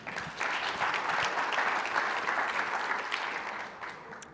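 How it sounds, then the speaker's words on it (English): Steady applause from an audience honouring nurses at a startup pitch competition semi-final, a dense, sustained wash of clapping that holds for several seconds, moderately loud, then tapers slightly at the end. "Can we get a round of applause for nurses?"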